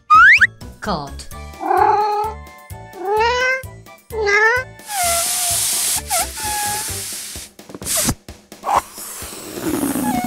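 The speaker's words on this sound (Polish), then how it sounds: "kot," A farm cat meows several times in a row, with clear rising and falling cries close up, followed by a burst of hissing and a few softer sounds.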